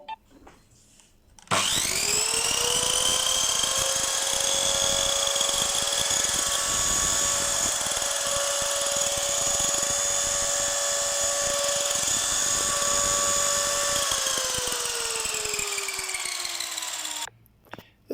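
A Belgian-made circular saw spins up with a sharp start, runs at a loud steady whine for about fifteen seconds, then winds down as it is switched off.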